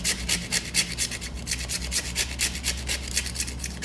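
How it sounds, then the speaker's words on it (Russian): A leftover piece of soap is grated on a fine grater, giving brisk, regular scraping strokes close to the ear with a faint low hum underneath and no voices. "Натираю на мелкой терке, чтобы легче растворился."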